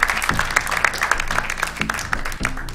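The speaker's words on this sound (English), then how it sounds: "Give him a round of applause." A game show audience about malaria breaks into applause, a dense, continuous patter of many hands clapping up close with a few louder claps standing out, and faint voices beneath.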